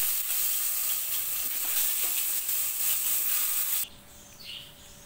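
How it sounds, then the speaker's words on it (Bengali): Eggplant fries in hot oil left over from frying eggs, a dense close sizzle that suddenly drops to a much quieter crackle near the end. "বেগুনটা ভেজে নেব।"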